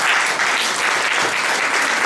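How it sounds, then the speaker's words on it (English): Warm applause from a dinner audience welcoming a speaker, a thick, steady burst of many hands clapping at close range, uninterrupted by any talk. "Let's give her a warm round of applause."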